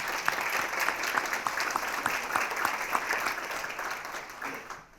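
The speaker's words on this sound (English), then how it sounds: "So please, a round of applause for our sponsors." Applause from the audience at a journalism talk with 9News anchor Kyle Clark, many hands clapping steadily at moderate volume before fading out at the end, no speech over it.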